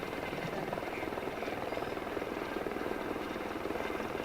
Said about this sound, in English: I can't hear anything over the helicopter.